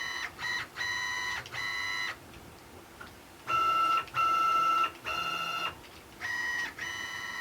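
A CNC machine driven by TurboCNC moves at 120 inches per minute, its stepper motors giving a steady high-pitched whine in repeated bursts of one to two seconds with short pauses between, close and alone.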